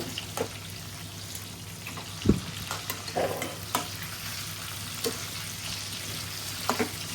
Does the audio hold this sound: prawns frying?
yes